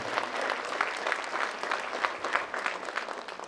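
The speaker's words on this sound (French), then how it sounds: "Ils méritent vraiment une bonne main d'applaudissement." Applause from a crowd at a local school talent show final honours the organizers, a steady, fairly distant wash of clapping with faint pulsing, no voices standing out.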